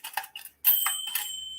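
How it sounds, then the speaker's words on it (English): Vintage bells, worn and rusty, ring out bright and close: a few short jingles first, then a sharp ring whose high metallic tone lingers and fades slowly. "The bells do work."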